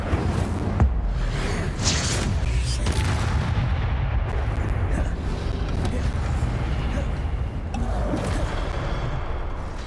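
Incendio fire spells in Hogwarts Legacy amid combat, repeated booming whooshes and bursts over a dense, continuous rumble of battle noise, with a voice talking over the action.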